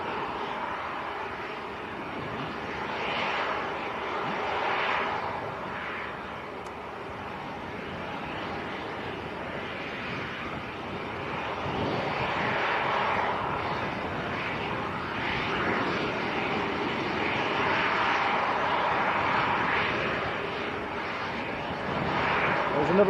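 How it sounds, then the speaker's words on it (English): A Jet2 airliner departs Leeds Bradford Airport bound for Dubrovnik, its engines giving a steady, broad roar at a distance that slowly swells and fades over the whole stretch, with faint talk now and then underneath. "Right, here we go, Jet 2 to Dubrovnik."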